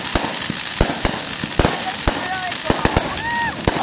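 Fourth of July fireworks going off in rapid succession, sharp crackling pops and bangs scattered irregularly, with faint whistling rockets rising, heard fairly close.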